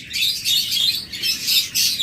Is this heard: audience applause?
no